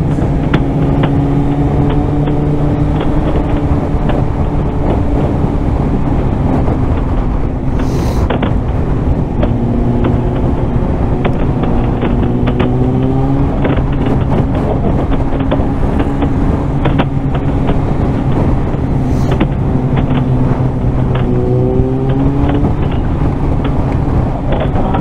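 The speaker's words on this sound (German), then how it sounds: "Alter, Junge, mein Motorrad." Motorcycle engine running steadily during a group ride on a ring road, a loud continuous drone with rising and falling pitch as it accelerates, mixed with heavy wind rush, no talking.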